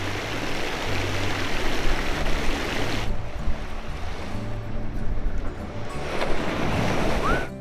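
Surf rolls onto a private beach at a Shenzhen resort, loud washing and breaking waves with wind buffeting the microphone, the roar easing slightly midway before swelling again, with no talking.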